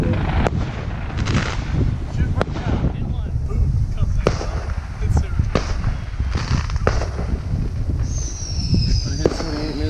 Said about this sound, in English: This fireworks over there.